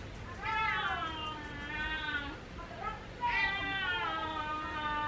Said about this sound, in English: My cat is consistent.